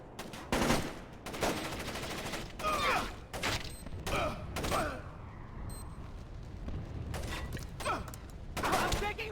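Gunfire from the video game Splinter Cell: Chaos Theory, loud bursts of shots and impacts repeating through the whole stretch, with brief pauses between volleys and some talk mixed in.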